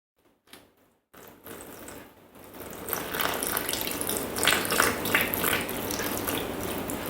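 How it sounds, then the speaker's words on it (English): Chilled water poured into a Thermomix bowl holding flour and butter makes a steady splashing, trickling stream that starts after a few light clicks and carries on evenly, close and moderately loud with no talking. "90 grams of chilled water."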